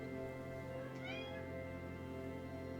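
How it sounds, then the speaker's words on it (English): A cat gives a single short meow, close by, over a steady low background hum. "That is my cat joining us."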